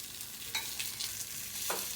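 A salmon fillet sizzles while pan searing, a soft steady crackle with a few brighter pops and a utensil scraping once or twice, fairly quiet and without talk.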